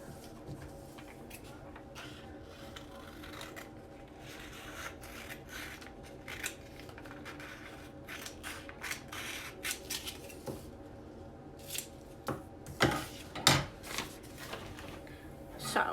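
Scissors cut away extra paper from a homemade ruler, close and quiet, giving soft snips and rustles that get sharper and more frequent toward the end.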